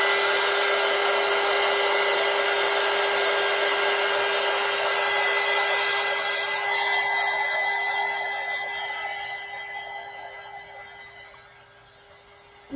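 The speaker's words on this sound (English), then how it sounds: "I hate using my heat gun." Heat gun blowing with a steady whirring hiss and whine, loud and close, holding constant for several seconds before fading toward the end.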